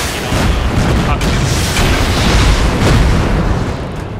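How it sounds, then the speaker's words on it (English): Rocket explosions during a video game battle against a charge wall form a loud, continuous booming roar that sustains throughout, with voices mixed in. "stop shooting rockets at the charge wall"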